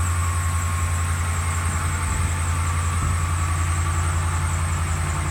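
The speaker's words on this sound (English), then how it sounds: "Alright, so I got a remote start, so let's do it. Yeah, she starts up." A 2012 Ram 1500 pickup engine idles steadily after a cold remote start, a loud, constant low droning hum with a faint high whine running through it and no voices.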